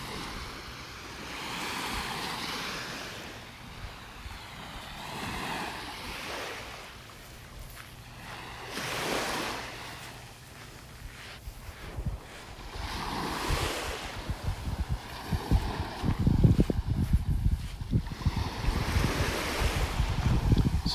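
Surf rolls onto a beach in North Naples, Florida, with waves breaking in repeated swells amid steady wind buffeting the microphone, growing louder and rougher toward the end.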